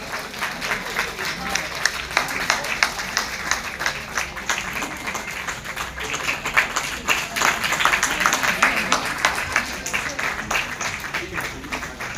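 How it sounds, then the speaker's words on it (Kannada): An audience at a Bharatanatyam rangapravesha dance debut gives a long, dense round of applause that swells and then holds steady, with a voice speaking over the clapping. "Let's give a big round of applause"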